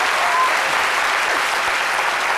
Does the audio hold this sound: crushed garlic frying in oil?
no